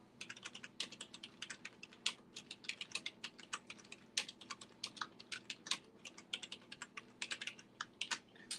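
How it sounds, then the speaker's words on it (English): Rapid, uneven typing on a computer keyboard, dense bursts of crisp key clicks with short pauses, close and fairly quiet, with no speech. "My typing is a little rough"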